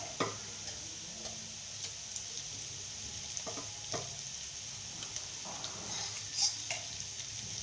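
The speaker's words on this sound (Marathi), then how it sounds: "आपण हे चांगलं तेलामध्ये परतून घेऊ" Garlic and green chili paste frying in oil over onions, a faint steady sizzle broken by occasional soft stirring scrapes and light taps, close and quiet with no talk.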